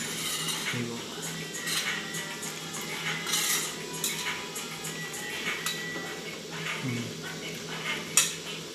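Soft paneer pieces stirred gently in a pan for a paneer curry, with light scraping and clinking of a utensil against metal over a steady background hiss, no voice.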